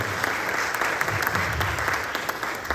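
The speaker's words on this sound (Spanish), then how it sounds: "Un aplauso para ustedes" Audience at a university journal presentation breaking into steady applause, many hands clapping densely and evenly for a few seconds.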